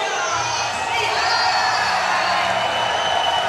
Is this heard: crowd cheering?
yes